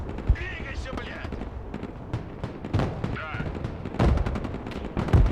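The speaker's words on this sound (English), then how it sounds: "they've finally spotted our ATGM team, so now they can put suppressive fire on them" Suppressive gunfire in the Broken Arrow military strategy video game: repeated sharp shots and bursts with distant booms, loud and irregular across the clip, mixed with other battlefield sounds and voices.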